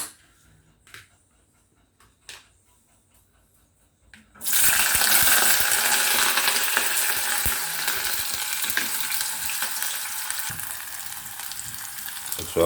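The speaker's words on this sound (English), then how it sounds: "I'm going to put in the season, the ground season, make it go and fry up." Ground seasoning for Jamaican ackee and saltfish drops into a hot pan and breaks into a loud, steady sizzle that keeps going to the end, after a few quiet knocks and clinks at the start.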